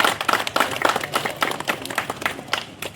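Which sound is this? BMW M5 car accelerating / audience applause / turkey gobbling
audience applause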